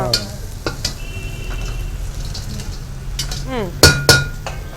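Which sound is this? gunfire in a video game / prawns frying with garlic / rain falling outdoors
prawns frying with garlic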